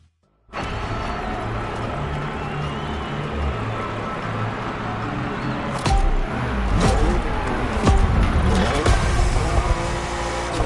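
A BMW M4 drifting in The Crew Motorfest, its engine a loud, sustained roar throughout that grows rougher and more intense toward the end, with sharp bursts of tyre and engine noise.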